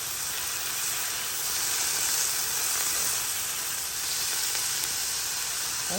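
Garlic, about a teaspoon, dropped into a hot pan of cooking vegetables for beef stroganoff, giving a loud, continuous hissing sizzle that holds steady close up for several seconds.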